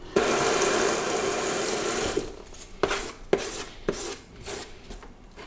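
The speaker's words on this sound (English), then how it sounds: "So I'm going to stir it up first." A tool scrapes and stirs grout into a paste in a large container, first as a steady rasping churn, then as a few separate knocks and scrapes against the sides.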